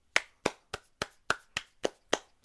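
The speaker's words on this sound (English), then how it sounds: "Everybody applaud." Eight sharp, separate hand claps at a steady, slightly uneven pace, close and fairly quiet against a silent background, like a small group or one person clapping on cue during a livestream.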